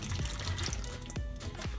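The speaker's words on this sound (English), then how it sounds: "pour out the beans" Canned beans and their liquid are poured into a strainer in a home kitchen, giving a brief, quiet splashing trickle with a few soft wet plops, heard alone.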